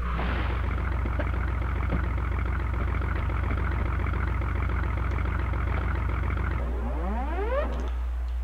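Engine of a vehicle in Tomb Raider 2 idles with a steady, loud, low drone, then shuts off near the end as the tone winds down through falling sweeps.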